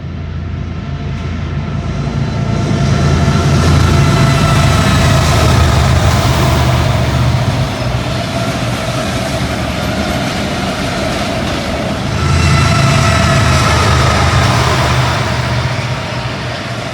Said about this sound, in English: That train was the CPKC Autorack train, with the CP Givo leading, KCS Ace in second